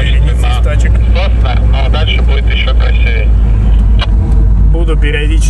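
A Lada Niva drives off-road on dry forest tracks as part of a long convoy of vehicles. Its engine drones loud and steady throughout, with people talking over the noise.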